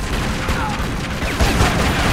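Rapid gunfire crackles through a firefight in the video game Tomb Raider Legend, a dense burst of shots and booms played loud and close.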